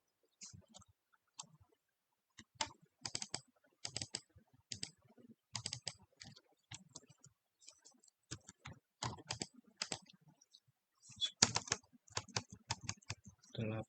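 Computer keyboard keys clatter in short bursts of quick, close, crisp taps separated by brief pauses, with the rhythm picking up into denser runs toward the end.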